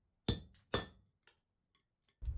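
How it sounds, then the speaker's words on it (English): Metal stock struck down onto a blacksmith's hardy, a fixed cutting edge set in the anvil's hardy hole: two sharp, ringing hammer blows close together, a few faint ticks, then a third heavy strike at the end. "Fixed cutting edge, for example the hardy hole. Here you press the material into the cutting edge."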